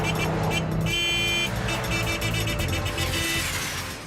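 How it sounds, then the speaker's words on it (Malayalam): Ordinary street traffic rolls past nearby, with engines droning, a short car horn toot and a faster motorbike passing, all as a continuous loud roadside hum. "ശരിക്കും നോക്കാൻ പോയാൽ സാധാരണ ട്രാഫിക് മാത്രമേ ഉള്ളൂ."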